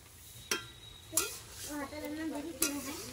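Mutton being stir-fried in a pot, with faint sizzling under a few sharp scraping clanks of a spoon against the pot; a voice speaks softly in the background.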